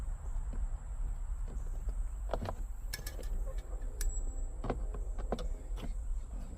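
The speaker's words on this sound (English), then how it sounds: "Now this should just snap off like that, little snaps" Plastic clips pop loose from a 2020 Toyota Tacoma door panel being pried off by hand, a few sharp snaps and clicks scattered over low rustling.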